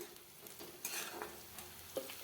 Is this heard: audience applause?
no